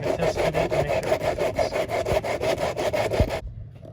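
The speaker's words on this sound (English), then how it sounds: "We're just sanding the edges now because we cut down basically down to the Sharpie," Rapid back-and-forth rasping strokes of sanding the cut edges of a plastic rear fog light piece for an 00-05 Toyota Celica, close and loud, in an even rhythm of about four per second before stopping abruptly.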